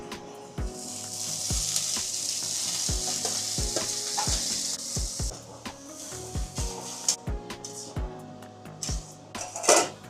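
Methi greens hiss and sizzle in hot oil tempered with dried chilli and nigella seeds, while a utensil knocks rhythmically against the pan in repeated stirring strokes, with a louder scrape near the end.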